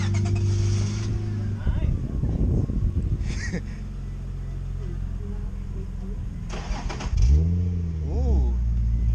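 Nissan Z sports car fitted with a new exhaust starts up and revs, a deep engine roar rising and falling in bursts, close by, with people talking around it.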